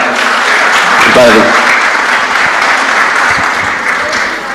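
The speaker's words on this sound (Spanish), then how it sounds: "Un aplauso para el Padre." Loud audience applause for the priest fills the room, a dense and sustained clatter of clapping that tapers slightly toward the end, with a few voices mixed in.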